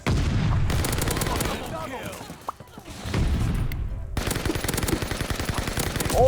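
Rapid automatic fire from a Marco 5 in Call of Duty Vanguard, loud sustained bursts of closely spaced shots broken by short pauses, with a player's voice talking over parts of it.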